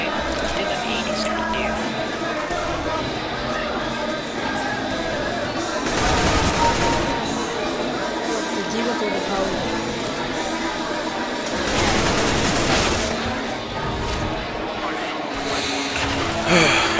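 Rapid automatic gunfire from the video game CS:GO during a deathmatch, a dense stream of shots with two louder, fuller bursts standing out, while a person talks over the game sounds.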